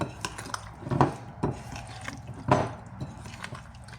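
Batter of liver, egg and flour being stirred in a bowl, giving soft wet scraping and rubbing strokes in an uneven rhythm, close and fairly quiet with no talking.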